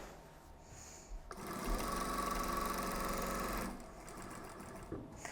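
A sewing machine quilting a printed table runner panel runs in one steady, fast, loud mechanical burst of stitching for a couple of seconds, then stops, with quiet room tone on either side.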